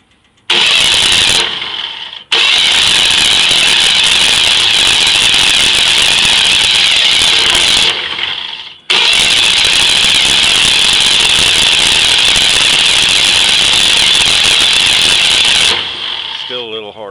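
The engine on a lubrication and air service trailer cranks hard on a 24-volt hookup, a loud near starter grinding in two long bursts separated by a brief pause, then dropping off near the end.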